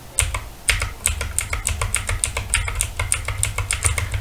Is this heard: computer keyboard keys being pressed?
yes